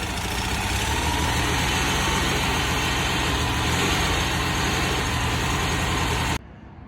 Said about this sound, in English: I just ran the engine to break in the cam